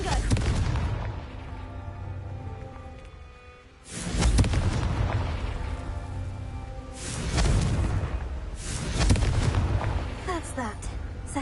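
Repeated Confringo fire spell blasts in Hogwarts Legacy, several deep booming explosions with sharp attacks and long rumbling tails, loud and close, with voices of combat in between.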